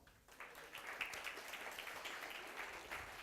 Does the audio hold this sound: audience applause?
yes